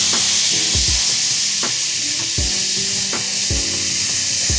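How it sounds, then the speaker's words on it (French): Wagyu A4 beef sizzles loudly on a teppanyaki grill, a dense close hiss of frying punctuated by repeated knocks and scrapes of a metal spatula at irregular intervals. "C'est des teppanyaki."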